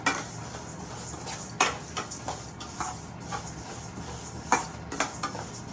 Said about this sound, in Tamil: நான் வறுக்கிற விதத்தை காட்டுறேன் பருப்பு நல்லா சிறுபருப்பு நல்லா